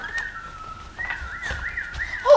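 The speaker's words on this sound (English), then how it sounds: "Somebody's whistling." A single person whistles a wavering, continuous tune at moderate volume, with faint background rustles and thumps, in an animated Peter Pan scene.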